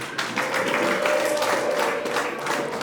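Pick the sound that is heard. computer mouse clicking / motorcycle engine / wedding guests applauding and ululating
wedding guests applauding and ululating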